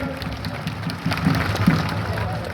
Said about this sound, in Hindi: जरा जोरदार इनके लिए भी ताली बजनी चाहिए।